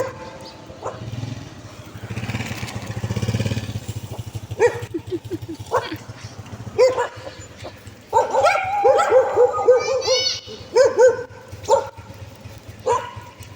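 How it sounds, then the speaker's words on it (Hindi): Three or four dogs pass close by a parked car, giving sharp yips, barks and whimpers in irregular bursts, with a motor hum and voices around them. "बिल्कुल हमारी गाड़ी के पास से ना 3-4 कुत्ते गुज़र रहे थे"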